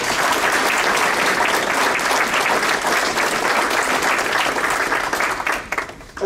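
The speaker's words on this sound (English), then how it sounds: "Let's give all of our honorees another round of applause." An awards-ceremony crowd applauds staff honorees at a school district event: dense, sustained clapping that holds steady for several seconds, then thins and tapers off near the end.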